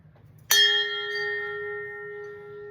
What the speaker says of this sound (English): ring my special bell that I now have in my office, which is a recreation of a Titanic bell